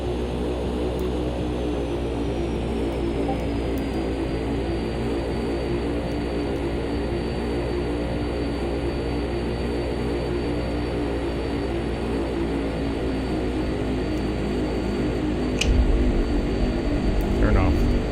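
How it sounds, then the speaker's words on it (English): Airliner in X-Plane 11 rolling out on landing with thrust reversers deployed, a steady loud broadband engine roar throughout, swelling slightly near the end. "Reversers, slow us down a bit."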